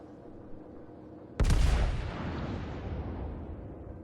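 Naval gunfire in the World of Warships game, heard as one sudden loud blast whose rumbling roar slowly fades over several seconds.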